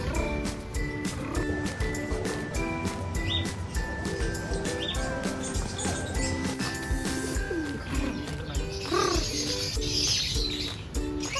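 A crowded aviary at an exotic pet park in Tirupati rings with many kinds of birds at once: cooing, whistles and sharp calls overlap continuously, with a louder burst of squawks near the end.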